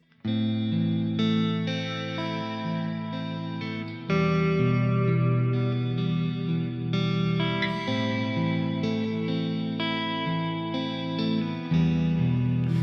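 A distorted electric guitar strums slow, sustained chords in a sad minor progression after the root chord, ringing out with a wash of effects and echo.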